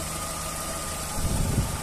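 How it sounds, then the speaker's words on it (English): Idling 1.4-litre petrol engine of a VW Polo Twist five-door hatchback, a steady low rumble with a slight swell in the second half, heard alone at close range. "engine sound nice and smooth"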